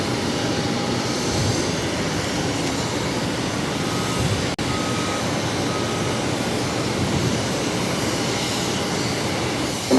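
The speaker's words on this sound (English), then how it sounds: "Up next, we have Air Canada Express Dash 8 taking off to Halifax 664" Air Canada Express Dash 8 turboprop taking off from Boston Logan, a steady, broad engine roar held at an even level throughout, heard at a moderate distance.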